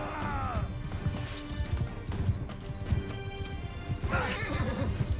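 A horse neighs twice and its hooves clatter in a rhythm during a melee battle in the video game Mount & Blade II: Bannerlord, with combat noise mixed in.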